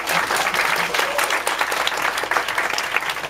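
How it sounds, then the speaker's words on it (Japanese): Steady crowd applause at a Tokyo live music event, honoring the lighting crew; many hands clapping together in a dense, sustained burst heard up close. "照明やっていただきます矢板さんに拍手"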